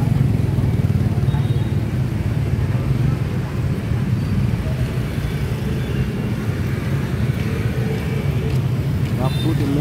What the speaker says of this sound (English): Busy, a lot of motorbikes.